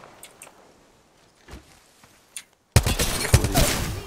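Sudden loud sniper rifle crack from a Kraber in a shooter game, landing after a few seconds of quiet footsteps and faint distant shots, then followed by ringing echoes and scuffling.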